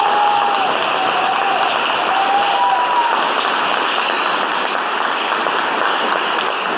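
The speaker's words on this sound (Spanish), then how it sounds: "Un aplauso para él, por favor." Steady, loud applause from a business-event audience for Iván Vélez, a dense wash of clapping that holds evenly for about seven seconds with a faint tone drifting briefly above it early on.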